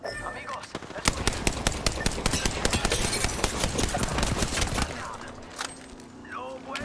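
Rapid automatic gunfire in the Apex Legends arena mode, dense bursts of sharp shots rattling for several seconds before breaking off into quieter game sounds, with a voice speaking over it.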